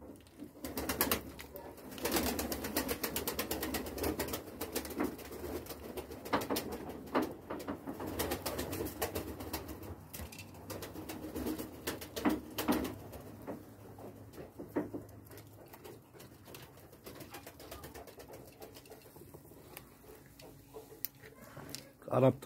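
Breeding tumbler pigeons in a loft give soft, intermittent cooing and wing patter, with faint rustling throughout and someone talking over much of it.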